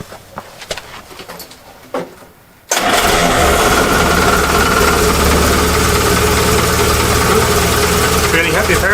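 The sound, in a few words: Jeep engine starting up and idling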